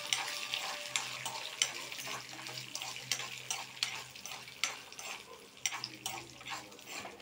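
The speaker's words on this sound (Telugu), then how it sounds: "కొద్దిగా పల్లీలు, వేసి బాగా వేయించుకోవాలి" Peanuts frying in a pan for raw mango pachadi, a steady hissing crackle with soft irregular pops and a faint low hum beneath, continuous and fairly quiet.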